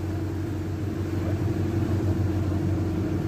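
A fishing boat engine off Rio de Janeiro pushes hard to speed up. It is a steady, dense low rumble that stays even throughout, with no voices.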